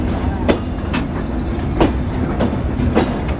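The Rupsha Express pulls out of Noapara railway station in Jessore district, its wheels clacking over rail joints in a rhythmic series of sharp beats above a constant rolling rumble.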